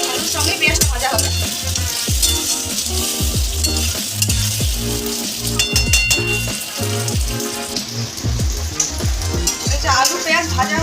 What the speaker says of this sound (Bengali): সঙ্গে পেঁয়াজটা ভাজা হবে।